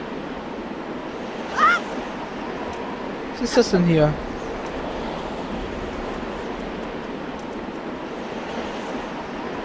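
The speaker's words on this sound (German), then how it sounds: "Ich höre ziemlich stark den Wind blasen." Wind blows strongly and steadily in The Legend of Zelda: The Wind Waker, a broad rushing roar that continues throughout, with a few brief game sounds and a voice over it.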